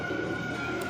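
A yellow Danish pigeon cooing softly at a pigeon market, one short low coo close by over faint background noise.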